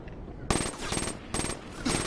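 Video game gunfire, with two loud bursts of shots in quick succession, each followed by a short tail of rapid reports, close and punchy over a faint background.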